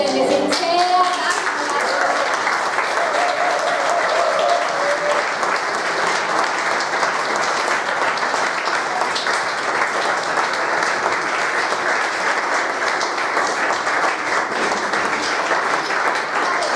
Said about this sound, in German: Ihr dürft jetzt alle noch einmal aufstehen und dem Dr. David Herzog einen mächtigen Applaus geben